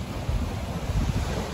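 Sea waves wash onto the shore at Tigert, a steady, fairly loud low rumble of surf blended with gusty wind buffeting the microphone, continuous throughout with no voices.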